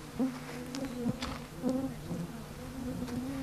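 Insects buzz close by outdoors, a low steady drone that rises and falls as they fly past, with no one talking.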